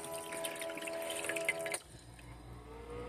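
Water trickling and dripping inside a Frigidaire 26 lb countertop ice maker during its cleaning cycle, a faint close patter for under two seconds that then fades to a quiet hum.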